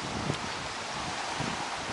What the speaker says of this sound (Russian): Ну, ветер все еще сильный.